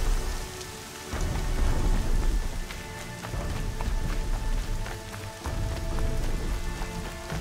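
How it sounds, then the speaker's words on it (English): Steady rain patters on surfaces in a thunderstorm in the video game Horizon Zero Dawn, with deep rolling thunder swelling and easing throughout, no voices. "Watch out for that storm, Blue."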